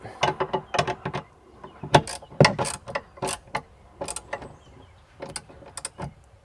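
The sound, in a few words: tightening bolt on Ford Bronco cargo rack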